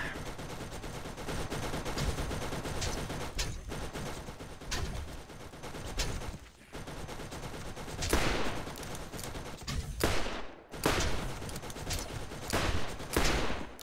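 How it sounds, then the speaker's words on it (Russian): Rapid Gatling gun fire in the video game Borderlands, dense sustained bursts of shots with brief pauses and louder blasts, close and loud throughout. "там точно та же пушка Гатлинга"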